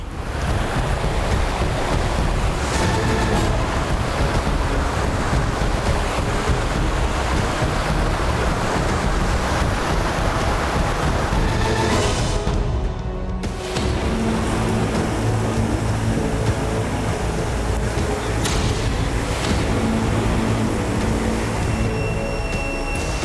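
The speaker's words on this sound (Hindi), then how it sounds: "सामने एक नदी थी, बेहद चौड़ी, जो बरसात के बाद अपने प्रचंड वेग में थी।" A very wide river swollen and racing after the rains makes an unbroken, loud rushing roar of water that stays dense and steady from start to finish.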